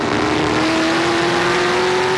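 Race cars roar at the 2008 A&W Cruisin The Dub 300 stock car race, a loud steady engine drone with a sustained high whine from an onboard car, no voices.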